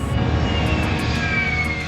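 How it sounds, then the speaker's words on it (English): A steady, loud roar of airplane engines inside the passenger cabin, a continuous broad drone with faint higher whines and no talk. "Made it on the plane on time."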